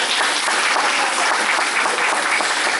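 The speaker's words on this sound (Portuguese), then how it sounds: "Aí todo mundo bate palma, pode bater palmas" Dense, even clapping from an audience at a church gathering talk, loud and continuous for a few seconds with no voices over it.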